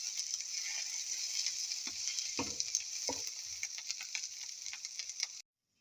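Egg and eggplant frying in a small amount of oil, a fine bright hiss of sizzling with a few louder crackles and utensil scrapes midway, close up, then cutting off abruptly.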